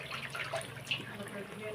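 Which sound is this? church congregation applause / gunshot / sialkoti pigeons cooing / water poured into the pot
water poured into the pot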